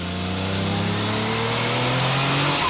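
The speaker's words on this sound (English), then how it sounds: "testing an EB110 SS on the track" A Bugatti EB110 SS supercar on a track at the Concours Club in Miami revs its engine loudly and steadily, with rising harmonic tones over a continuous close roar and no talk.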